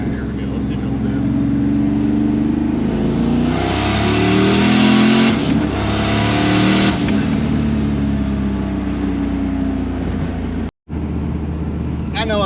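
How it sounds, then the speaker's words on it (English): A turbocharged LT1 car pulls hard through second gear into third: a loud, sustained engine roar climbs in pitch, drops briefly at the shift, then builds again, heard close from inside the car. "I'm gonna do a little second gear pull, and then third, and I'm gonna drive it."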